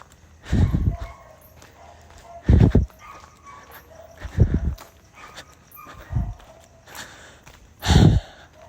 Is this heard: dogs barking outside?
yes